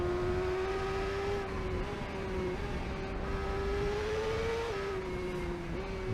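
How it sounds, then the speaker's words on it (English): A supersport racing motorcycle in TT Isle of Man 2 screams at high revs throughout, its steady engine note dipping briefly and climbing again at each quick gear change, loud and continuous with no talk. "we're kind of pinching gears to get some revs, and get some speed back there"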